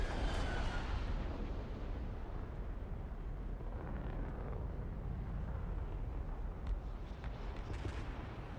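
Dense, continuous rumble of missile explosions in a video game, a loud, steady roar of overlapping blasts that swells slightly at the start and stays heavy throughout, with no speech.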